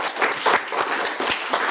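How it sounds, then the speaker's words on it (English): An audience at a poetry reading bursts into applause, a dense, lively patter of many hands clapping for under two seconds, fairly close and without speech. "That's you, you're clapping for yourselves."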